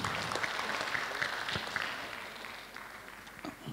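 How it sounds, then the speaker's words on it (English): An audience at a conference on peatland restoration applauds in a fairly faint, steady patter of many hands that thins out toward the end, with no talking over it. "Please big applause to Pak Dedi Nur Samsi."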